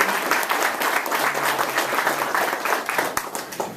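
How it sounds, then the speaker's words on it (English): A crowd at a Chicago LGBT Veterans Day event claps to welcome Timothy Shaman, a loud, close round of applause that stays full for nearly four seconds and then begins to thin out. "Let's give him a big round of applause."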